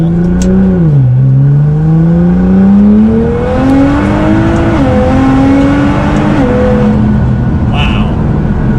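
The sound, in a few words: Toyota Supra all-wheel drive twin-turbo car accelerating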